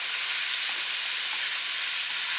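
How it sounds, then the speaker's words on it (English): Chicken sizzles steadily as it fries in bacon grease in a skillet, a loud, continuous close-up crackle with no voices. "Now we're just frying up the chicken in the bacon grease."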